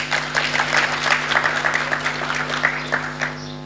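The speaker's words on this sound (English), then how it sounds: "Please clap for me." Audience applause at a national economists' conference in Kenya, a steady mass of hand claps filling the hall for several seconds, with a constant low hum beneath it.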